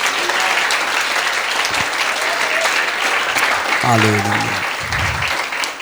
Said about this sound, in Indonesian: Berikan tepuk tangan baginya.